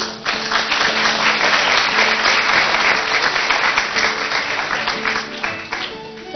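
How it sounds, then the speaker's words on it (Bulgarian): An audience at a school New Year concert claps loudly and steadily, a dense, sustained applause that fills the hall for several seconds and tapers off only slightly near the end. "Задолжително ќе ни бидат од голема корист вашите аплаузи,"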